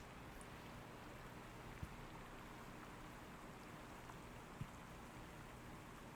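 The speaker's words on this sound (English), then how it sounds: "you can maybe hear it very faintly over the rain sounds that I pump in." Recorded rain sounds run steadily and softly in the background of a livestream, an even wash of patter with no speech, broken only by a couple of faint thumps.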